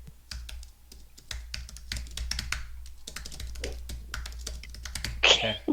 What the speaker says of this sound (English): go ahead and type in Braxton's name